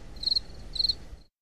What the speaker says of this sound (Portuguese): Grilo.